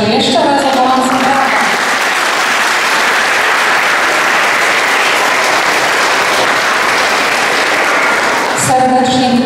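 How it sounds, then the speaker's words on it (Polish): School audience at an eighth-grade farewell ceremony giving warm applause, a full, steady burst of clapping lasting most of the stretch, with brief talk at the start and end. "Ja poproszę jeszcze raz o gorące brawa."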